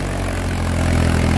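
A Mahindra 265 DI XP Plus tractor engine idles close by in a steady, low, even rumble with no voices over it.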